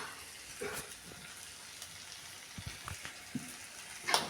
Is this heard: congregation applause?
no